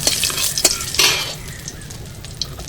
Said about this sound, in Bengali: ফোড়নটা একটু নাড়াচাড়া করে ভেজে নেব।